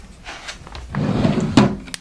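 A drawer of neatly stacked t-shirts slides open or shut, a soft wooden scrape followed by a sharper knock near the end, close by and moderately loud, with no speech.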